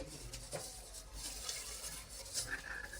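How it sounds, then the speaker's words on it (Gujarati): Pots and pans being scrubbed and rinsed in an outdoor cooking setting where a whole-garlic curry is prepared, with a steady scraping, clinking wash and a few sharper knocks of metal utensils, fairly quiet with no talk. "જયભાઈ થામણું ઠામડા ઉઠકે છે."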